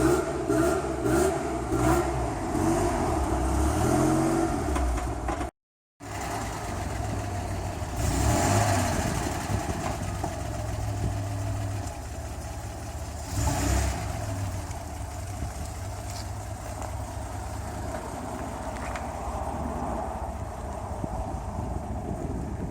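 A Fiat 130 Coupé engine runs steadily on a test drive, revving and pulling under heavy wind noise, with a brief cutout partway through and no talking.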